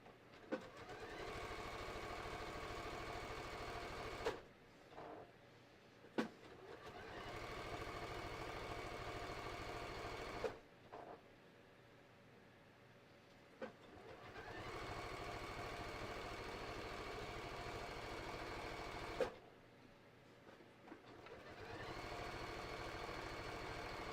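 A sewing machine runs in long continuous bursts while stitching a reinforcing seam on a hiking belt, a steady whirring drone near the microphone, broken by four brief stops with small clicks before each restart.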